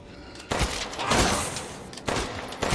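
A shotgun fires in the Resident Evil Village demo, with three loud, close blasts, one early and two near the end, over a rumbling game backdrop.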